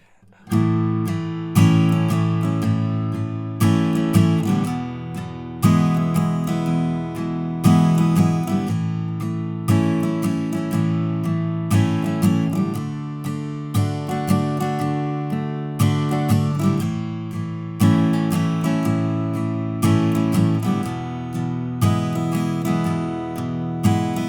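Steady chord strumming on an acoustic guitar, rhythmic and full, repeating a simple verse pattern from a song with no talking.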